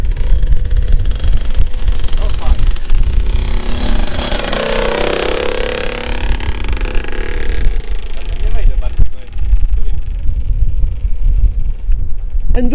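A Derbi Senda 50cc motorbike is kicked into life and revved, its small two-stroke engine rising and falling in pitch as people talk and shout over it close by.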